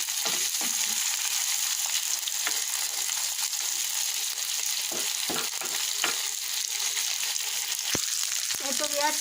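Koi fish and onions frying together in a pan, giving a steady, close sizzle throughout, with scraping clicks and clatters as the pieces are stirred and turned.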